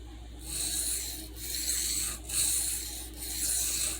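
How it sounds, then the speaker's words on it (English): A knife blade is drawn across a sharpening stone in four slow, even strokes, each a soft, gritty rub separated by short pauses, close and quiet with no talking. "It should not take very long at all for this stone to cut a bevel into this knife to put a wire edge on this knife to draw a burr."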